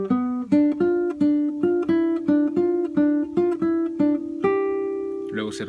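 Acoustic guitar picking a single-note cumbia melody phrase, about a dozen evenly spaced plucked notes in a steady rhythm, close and clear, ending on a held note with a brief scrape.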